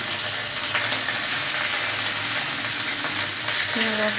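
Garlic dropped into hot oil already seasoned with bay leaf, chilli and cumin, frying for a Bengali potato-cauliflower curry: a steady close sizzle and crackle throughout, with a brief stir near the end and no talking.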